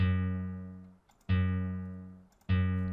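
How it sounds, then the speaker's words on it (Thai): A deep, plucked tone from a Minecraft note block at its lowest pitch, struck three times at an even pace, each note ringing and fading before the next, with nothing else around it. "อันนี้คือเสียงของโน้ตบล็อกที่ต่ำที่สุด"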